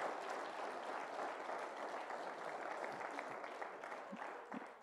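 A church congregation at a large evangelical gathering applauds steadily, a dense wash of clapping at moderate distance that holds even for about five seconds and tapers slightly toward the end.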